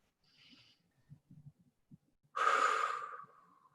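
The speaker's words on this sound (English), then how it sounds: "Take a deep breath in, let all that go" A deep breath drawn in and then a long, forceful exhale released close up, preceded by a few quiet shuffles and soft breathy sounds, during a guided warrior-meditation gathering.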